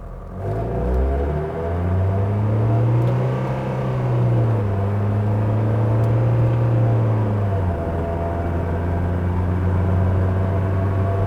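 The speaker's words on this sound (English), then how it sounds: "I'm going to go through the gears manually now on it" A 1976 Mercedes W115 240D diesel pulling through its gears, a steady droning engine hum whose pitch rises, levels off, then drops at a shift before settling again, heard from inside the car with no talk.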